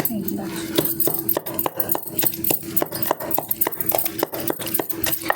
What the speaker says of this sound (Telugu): చూపిస్తాను నేను దంచిన కొద్దిసేపు